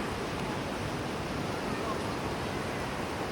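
Waves wash onto a beach in a steady, unbroken rush of surf, with some wind noise against the microphone. It stays moderately loud throughout, and no one speaks.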